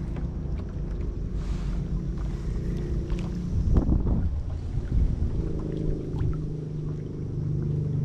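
Strong wind on open water beside a fishing boat, a steady loud rumble and buffeting against the microphone with a brief gust swelling midway, continuous throughout.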